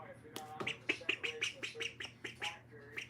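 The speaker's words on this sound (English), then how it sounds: "Hanging around with my duck." A pet duck quacks repeatedly in quick, uneven bursts, close and fairly loud, with a faint low hum underneath.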